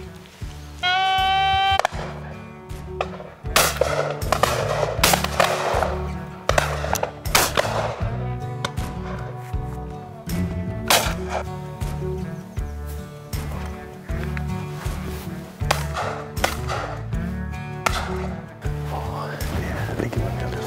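Shotguns fire sharp, loud blasts in a series during duck-hunting shooting practice, with the reports spaced irregularly across the clip and other sounds and noise between shots.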